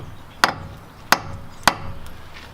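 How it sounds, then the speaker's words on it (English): Three sharp metallic hammer blows knock a wheel stud out of a Subaru hub, spaced roughly half a second apart, loud and close with quiet between strikes. "that you can hit the stud out"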